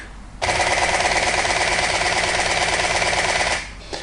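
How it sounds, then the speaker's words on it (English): A very fast, continuous burst of Canon camera shutter clicks at 10 frames per second, a dense mechanical rattle lasting about three seconds, close and loud. "And a 10 frames per second sounds like."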